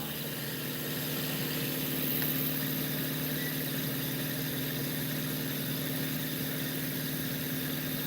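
Pulse motor generator with reed switch and trifilar coils at 31 volts spinning at about 1100 RPM, a steady close mechanical hum and whir with a fixed tone, running alone without talk.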